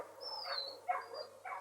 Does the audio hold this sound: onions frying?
no